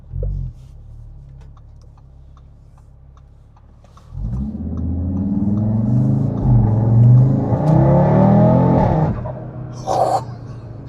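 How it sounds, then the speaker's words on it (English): An Audi RS3 8Y idles with a low, quiet rumble, then at about four seconds the engine revs up hard with a rising intake and exhaust roar that holds for several seconds before easing off, close and loud. "That air intake sounds are so good."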